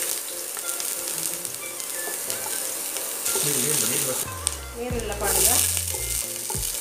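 Ginger and onion sizzle and fry in a pan for a potato egg curry, a steady crackling hiss with stirring scrapes, while someone talks over it.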